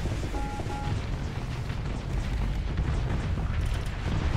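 Missiles exploding during a space battle in the game Starsector with the Nexerelin mod, a dense, continuous roar of overlapping blasts and rumbling booms with no clear gaps, loud and sustained throughout.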